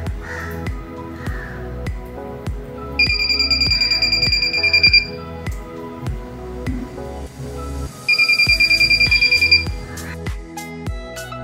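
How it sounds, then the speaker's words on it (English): An Arduino smart shoe's obstacle alarm for the blind beeps in two bursts of rapid, shrill, evenly pulsed buzzer tones, loud over steady background music. "The alarm will be continuously on as long as the obstacle is in front of the smart shoe."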